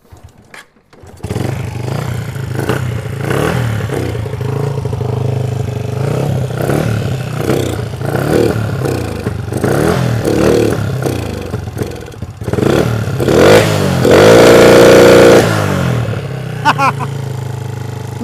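Honda Wave 125i motorcycle with a spark plug fault being started, then its engine idling and revving in repeated rising bursts, loud and close, with a voice talking over it.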